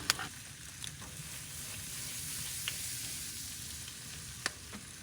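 Thick-sliced Nature's Own multigrain bread sizzles steadily in a hot pan at a solo campsite, a close, even frying hiss with a few faint clicks and taps scattered through it.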